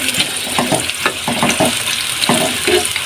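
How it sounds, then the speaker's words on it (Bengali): Onions fry lightly in oil in a pan for an egg tarka, giving a close, loud sizzle with repeated scraping strokes of a spatula stirring them. "আমি পেঁয়াজটা কিন্তু খুবই লাল করব না, একদম হালকা হালকা লাল লাল ভাজবো"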